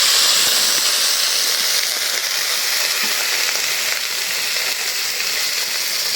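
Spices fry in a pan after a little water is added, giving a loud, even, steamy sizzling hiss that holds steady throughout, with no talking.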